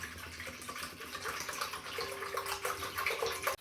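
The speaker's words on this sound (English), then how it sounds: "So we are going to put this milk into this cooking pot" One liter of milk pours into a cooking pot in a steady, close liquid stream that fills the pot, cutting off abruptly at the end; no voices are heard.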